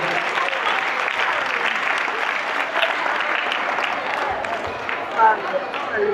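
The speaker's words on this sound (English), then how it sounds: "can you put your hands together as we welcome her?" Sustained applause from a large crowd at a Bank of Ghana currency education event for students, steady and loud, with faint voices mixed in.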